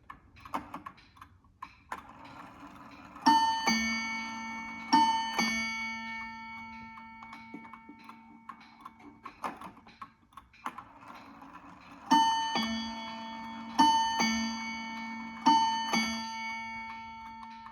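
A Seth Thomas Cymbal #1 mantel clock with a 3/4-hour bim-bam strike ticks softly and steadily, broken by clusters of bright, ringing chime strikes that hang and fade in a quiet room.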